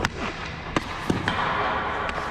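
Ice hockey puck struck by a stick during a shooting drill, sharp impact cracks at intervals over steady rink ambience, no voices.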